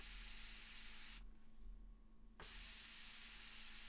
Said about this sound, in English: I just love priming models.